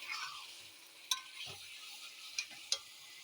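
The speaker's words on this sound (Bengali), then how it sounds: "চিকেন দিয়ে নেড়ে দিলাম" Chicken being stirred in a cooking pan with a quiet, steady high sizzle, broken by a few sharp utensil scrapes and clicks against the pan, close but faint, no talking.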